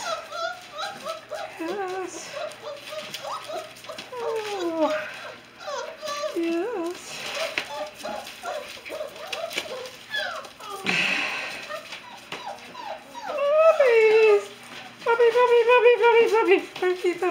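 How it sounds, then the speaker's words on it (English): Alaskan Noble Companion Dog puppies whimper and yip in thin, high cries, rising into louder squeals near the end, while a person talks softly in between. "Look at all these puppies."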